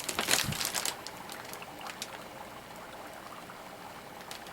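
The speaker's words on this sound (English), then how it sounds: "Listen to it bubble." Quiet bubbling and popping of liquid, with a burst of louder gurgles at the start fading to soft, scattered bubbles.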